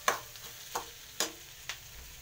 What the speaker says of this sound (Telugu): ఇక పల్లీలు అయితే వేయించుతున్నా చూడండి ఫ్రెండ్స్.